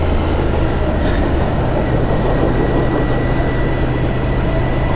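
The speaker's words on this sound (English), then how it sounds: "Is this thing called a train? I think it's called a train." A train rumbles past steadily, loud and close, with a continuous roar of wheels on rails and a brief high squeal.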